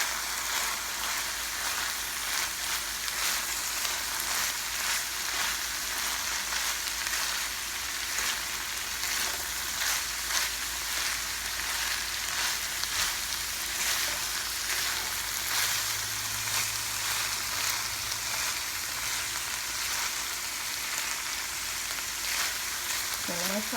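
Cabbage and ground meat frying in a pan for an egg roll in a bowl keto meal, a steady rain-like sizzle with occasional stirring scrapes that carries on for a long stretch, close and with no voices.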